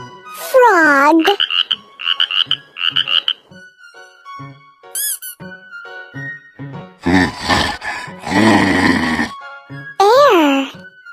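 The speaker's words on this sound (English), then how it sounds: "Frog." A frog croaks in loud, repeated bursts, with rhythmic throaty pulses and warbling calls broken by short gaps, and a voice briefly mixed in.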